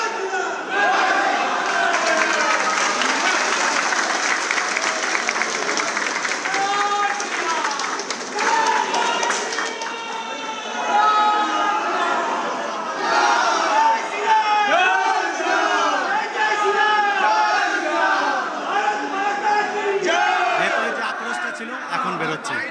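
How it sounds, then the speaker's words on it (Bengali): Government workers at Nabanna, the state secretariat, celebrate by chanting Jai Shri Ram slogans: a loud crowd shouting in rhythmic, repeated bursts, with cheering and some clapping throughout. "নবান্নে সরকারি কর্মীদের মুখে জয় শ্রীরাম স্লোগান।"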